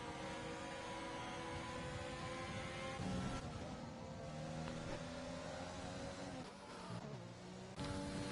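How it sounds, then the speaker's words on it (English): Racing car engines from the F1 2020 video game drone in a steady, high whine throughout, with pitch shifting slightly as the cars accelerate and ease off, and no talking over it. "Enjoy some engine sounds for a minute."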